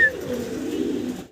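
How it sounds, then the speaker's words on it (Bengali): Domestic pigeons, single birds held by a breeder at a Mirpur 12 pigeon farm, give a soft low cooing that runs steadily for just over a second, close and moderately loud with faint background noise. "আবারও 2 পিস সিঙ্গেল কবুতর দেখাচ্ছি।"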